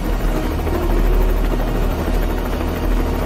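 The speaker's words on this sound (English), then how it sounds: "That's our chopper!" Helicopter flying close by with a loud, steady rotor thrum and engine drone filling the scene continuously, in an animated game trailer.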